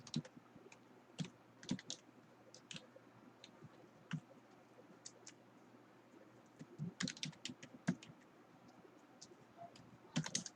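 Typing code on a computer keyboard, with soft close keystrokes coming in short irregular flurries separated by pauses and no voice.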